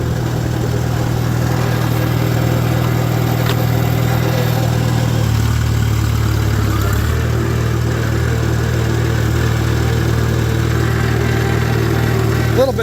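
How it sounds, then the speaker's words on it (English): A 1949 Farmall Super AV high-clearance tractor engine runs at a steady idle with a faint gear whine from the transmission. The drone is close, continuous and unbroken for the whole stretch, with no talk over it. "A little bit of gear noise in the transmission, but nothing unusual."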